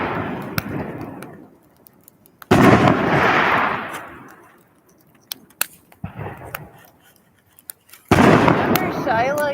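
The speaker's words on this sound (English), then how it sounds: "Remember Shyla used to puke when she heard fireworks" Firecrackers and fireworks go off at a home Independence party in several loud, close bursts. Each burst brings sharp pops and crackling hiss, with scattered snaps in the quieter gaps.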